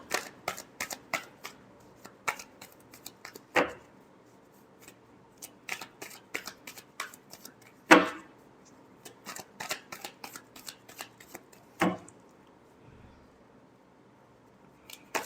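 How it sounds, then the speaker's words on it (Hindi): Tarot cards are shuffled by hand close up, a run of quick crisp riffles and flicks with a few louder snaps, in an otherwise quiet room with no voice. "जॉब, पैसा, बिजनेस एक्वेरियस के लिए लास्ट शफल"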